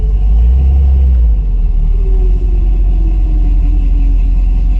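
A '55 vehicle attempts a donut but its tires grip instead of breaking loose, giving a loud, steady engine rumble with a low drone that holds throughout and rises slightly in pitch.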